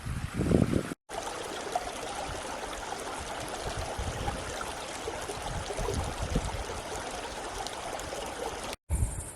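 Continuous rushing of a mountain river near Mt Somers, New Zealand, a steady broadband wash of flowing water, fairly close, briefly cut at the start and end.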